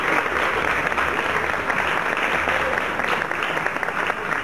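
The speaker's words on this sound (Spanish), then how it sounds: "Viene ese aplauso." Loud, steady audience applause filling the whole stretch, dense continuous clapping in a television studio on a tango variety show.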